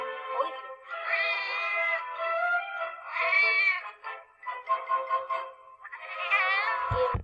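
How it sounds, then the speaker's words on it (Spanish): A cat meows in a run of about five long, whining meows, close and fairly loud, each drawn out and rising and falling, with short pauses between them. "El gato cuando maulla hace miau, miau."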